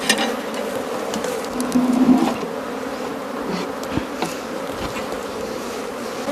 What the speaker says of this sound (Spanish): voy a meter esta abeja acá adentro de una vez